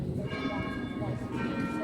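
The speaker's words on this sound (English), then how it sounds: "We have the 12 o'clock bell." The 12 o'clock bell rings out across Edinburgh city, a sustained metallic tone with lingering overtones heard at a distance beneath wind noise and outdoor street ambience.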